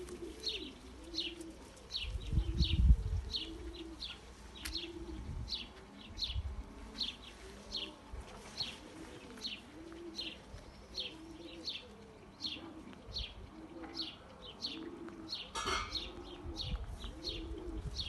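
Racing pigeons coo steadily inside a loft, a run of repeated low rolling coos close by, with faint chirps and twitters from other birds throughout and a couple of louder thumps near the start.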